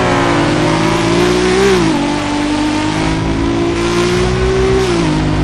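A car engine in a video game roleplay revs loud and close, its pitch climbing, dipping and climbing again in a sustained whine, with no talking.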